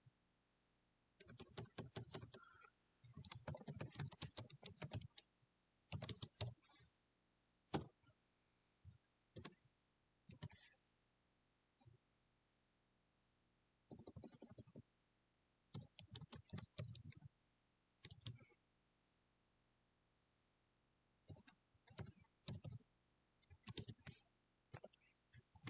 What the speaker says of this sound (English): what I'm typing up is my win percentage.